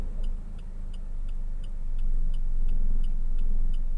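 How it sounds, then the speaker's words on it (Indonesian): Manual car engine idling low and steady as the driver eases the clutch to pull away in gear during a driving lesson, with a soft repeating tick over a continuous near rumble. "Pokoknya suara mesin dihafalin kalau udah gas gitu, gas lepas, kopling mentok kedua."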